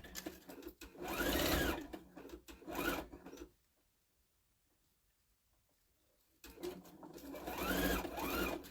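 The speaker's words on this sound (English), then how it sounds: "Then all I'm going to do is just sew on both sides" A sewing machine stitches along both sides of a heart-shaped hot pad, two close whirring runs with a quiet pause between them.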